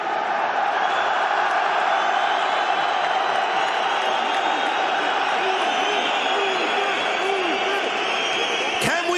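A large arena crowd at a boxing match in Germany roars and chants continuously, loud and dense, with a voice speaking over the din.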